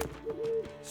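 A bird hoots once in the video game The Witcher 3, a short, soft, close tone over a faint background, with no voices.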